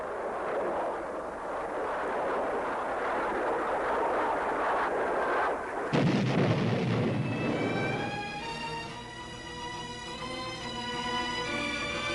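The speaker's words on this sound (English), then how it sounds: "And sometimes by cannon fire" Dense, continuous roar of rapid cannon fire from a McDonnell Douglas F-4 Phantom and rushing noise, shifting partway through into a droning, tonal engine sound with no one speaking.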